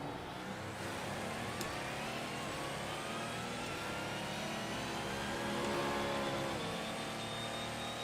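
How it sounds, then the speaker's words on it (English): A quiet diesel hybrid race car in the racing game Assetto Corsa drones along steadily, a soft, even engine whir that swells slightly near the end, with no voices. "So this car, being a diesel hybrid, is just incredibly quiet."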